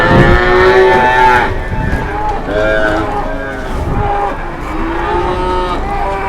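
Cattle at an Indonesian livestock market moo in several long, deep, drawn-out calls, loud and close, over crowd chatter and ambient market noise.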